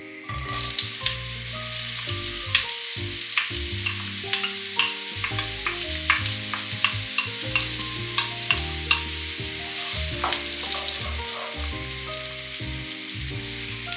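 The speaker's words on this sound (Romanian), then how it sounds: "Și untura s-a topit. Adăugăm ceapa." Chopped onion sizzles and fries in melted lard in a pan over moderate heat for cabbage rolls, a steady crackling hiss broken by stirring clatters, close and continuous with no voices.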